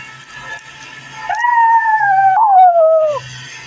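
A pet dog lets out one long, wavering howl that rises and then slowly slides down in pitch. It sounds close and loud, with a short break partway through, and comes after a moment of quieter background noise.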